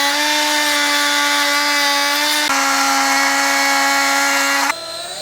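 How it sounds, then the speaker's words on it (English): Small oscillating tool and die grinder cutting away edges of a plastic motorcycle part on a 2020-2022 Indian Challenger, a steady loud high-pitched motor whine with strong harmonics, briefly dipping midway and dropping in pitch near the end. "take the miniature oscillating tool and the die grinder and go ahead and get this"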